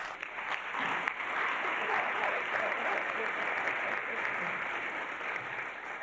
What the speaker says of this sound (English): a round of applause for everyone who helped make this possible